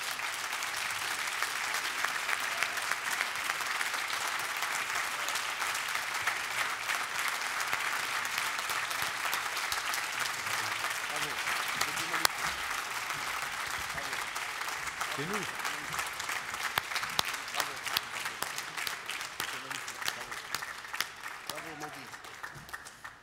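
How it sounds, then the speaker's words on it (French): Sustained applause from an audience at a student lawyers' pleading competition at the Mémorial de Caen, steady and loud across the whole stretch, with faint voices and a few louder claps rising near the end. "j'appelle tous les candidats, les élèves avocats qui ont participé ce matin et cet après-midi au concours, et qu'on peut applaudir très fort aussi"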